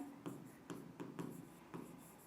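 Marker or chalk writing on a classroom board during a Hindi-language biology lesson: five short rhythmic scratching strokes, fairly close and quiet, with no voices.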